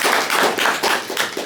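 Audience members at a Men in STEM panel clap briefly, giving a quick burst of loud, close hand claps with an uneven rhythm.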